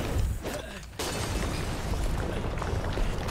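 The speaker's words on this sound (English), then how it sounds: "Throw a grenade at them." A grenade blast in the video game Far Cry 5 lands as a sudden broadband boom about a second in, after a brief hush, then rolls into a sustained, rumbling noisy tail.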